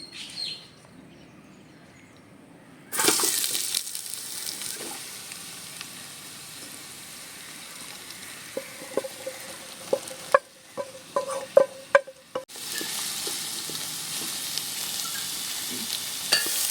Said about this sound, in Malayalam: ചൂടായിട്ടുണ്ട് ഇനി നമുക്ക് നമ്മുടെ സവാള വഴറ്റിയെടുക്കാം